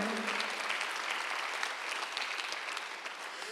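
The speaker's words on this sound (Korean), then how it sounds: "박수하세요." A church congregation applauding during a Sunday worship service, a full, continuous roar of clapping from many people, even and sustained without pause from start to finish.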